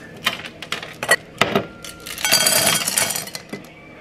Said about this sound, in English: I'm gonna put the ice in it